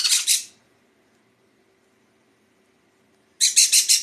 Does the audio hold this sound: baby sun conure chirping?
yes